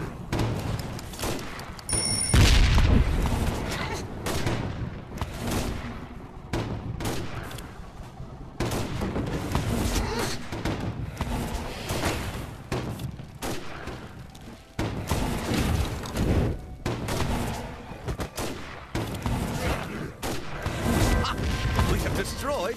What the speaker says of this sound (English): We have destroyed an enemy tower!